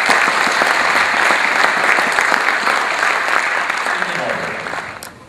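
Dense applause from an audience at a 2016 Toastmasters speech contest evening, many hands clapping steadily at close range before slowly tapering off toward the end.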